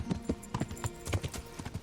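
A horse's hooves clip-clop in the medieval game Kingdom Come: Deliverance, a quick, close, rhythmic patter of many hoof strikes with no talk over it.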